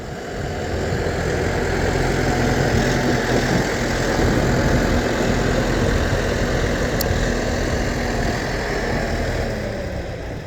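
A Yanmar S75 tractor's diesel engine, roughly four-cylinder, runs steadily at idle, a loud low throbbing rumble that holds constant from start to finish.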